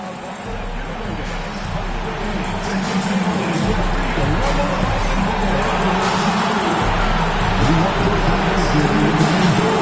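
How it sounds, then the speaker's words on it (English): A loud crowd fills an arena before a game, a continuous dense roar of voices and cheering that stays steady and close throughout, with a voice talking over it. "Surprisingly loud crowd tonight."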